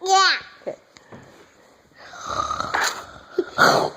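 A young child imitates a parent's snoring with a few short, breathy, rasping snorts separated by pauses, close to the microphone, with brief bits of childish vocalising between them.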